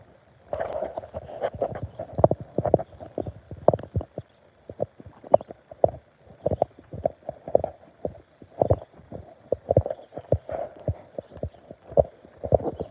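A horse's hooves clip-clop in an uneven, fairly quick run of sharp knocks over a low steady hum, some strikes louder and nearer than others.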